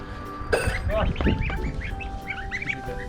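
Young geese honk and call in a busy, overlapping chorus close by, with soft chirps and a voice mixed in.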